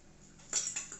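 Chopped vegetables for a sweet corn sandwich tipped into a bowl, producing two or three faint, bright clinks of utensil against the bowl in a quiet kitchen.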